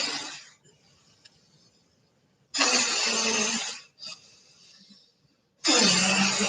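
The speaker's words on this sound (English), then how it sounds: "So ideally, your Bhastika breath would sound like this." Forceful Bhastrika breathing through the nose during a morning yoga flow, heard as loud broadband rushing bursts of air, each lasting about a second, with quieter airy passages between them and no talking.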